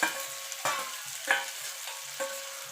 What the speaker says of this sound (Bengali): এবার ভালো করে মাছের তেলের সঙ্গে সবজিটাকে মিশিয়ে নেব।